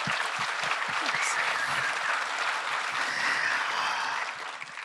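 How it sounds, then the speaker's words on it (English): Sustained applause from an audience at a book conversation event, a dense, even wash of many hands clapping that holds steady and begins to fade at the very end, with a few low murmurs of voices underneath. "so can we please give her another round of applause?"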